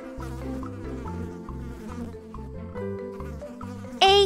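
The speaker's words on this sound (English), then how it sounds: "8 little flies." Cartoon flies buzz in a children's animation, a steady insect drone layered over bouncy rhythmic background music, ending with a louder bright musical sting.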